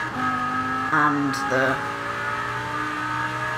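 A Lamborghini Huracán's V10 engine roars in Forza Horizon 4, revving up sharply and settling into a loud, sustained drone while someone talks over it.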